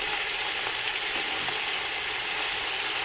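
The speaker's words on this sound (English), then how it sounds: "So I'll be cooking the spinach until they're fully done" Spinach sizzles and fries steadily in a pan, a constant close crackle with faint stirring scrapes and no voices.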